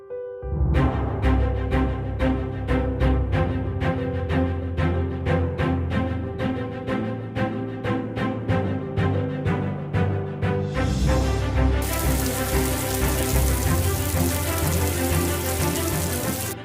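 Steady rain falls outside a window, a dense, continuous patter of drops that stays loud and even throughout with no voices.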